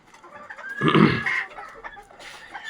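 A few backyard hobby hens cluck close by, one short loud burst of clucking followed by softer scattered calls.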